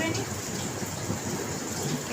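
Steady rain falls in the evening near a temple, a dense, unbroken hiss of drops that stays at an even, fairly loud level throughout.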